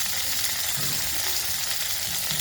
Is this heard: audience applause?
no